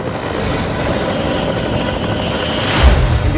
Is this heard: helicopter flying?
yes